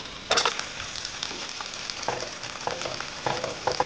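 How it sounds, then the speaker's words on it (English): Sizzling and soft scraping of cheese sauce being stirred in a pan, with irregular clattering strokes over a constant frying hiss. "I gotta stir the cheese sauce"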